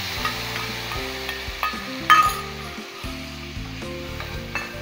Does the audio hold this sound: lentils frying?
yes